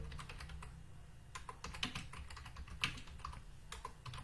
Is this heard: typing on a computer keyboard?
yes